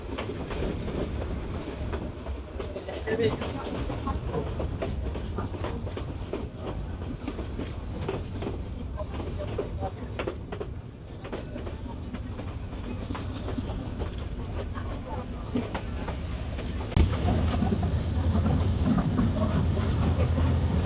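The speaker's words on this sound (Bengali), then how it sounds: "আঁকাবাঁকায় পথ দিয়ে ছুটে চলল আমাদের ট্রেন" The Turna Express train rumbles steadily along the tracks, wheels clattering rhythmically with a constant low roar that swells near the end.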